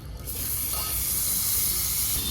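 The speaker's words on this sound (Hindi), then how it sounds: "फ्राई पैन हो गया है गरम, इसमें डालेंगे मक्खन अमूल का" Amul butter hitting a hot frying pan, a loud close hissing sizzle that swells quickly and holds steady, with no talking over it.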